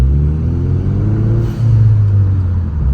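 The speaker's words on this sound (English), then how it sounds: "Hearing a turbo and hearing the spool." A Ford Mustang EcoBoost turbo engine revs and spools with a loud, close, low droning rumble that rises slightly in pitch and holds steady throughout, with no talking.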